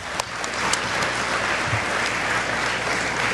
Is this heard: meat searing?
no